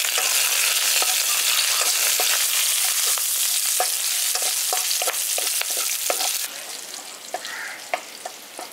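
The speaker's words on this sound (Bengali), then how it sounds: "এবার এগুলোকে হালকা একটু ভেজে নেব।" Green chillies and curry leaves fry in hot oil for village-style Chicken 65, giving a steady loud sizzle with scattered crackles and stirring clicks throughout, the hiss easing somewhat toward the end.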